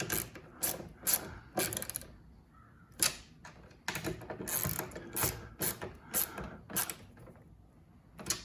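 A ratchet snugs 10 mm bolts on a Nissan Altima mirror, giving close bursts of rapid clicking in irregular short runs separated by brief pauses.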